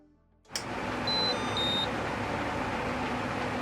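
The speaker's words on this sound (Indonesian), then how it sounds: "Solderan ini juga sudah dilengkapi dengan buzzer, jadi ada sound efeknya" A soldering station's electronic buzzer gives two short, high-pitched beeps in quick succession, just after the station switches on with a steady hum.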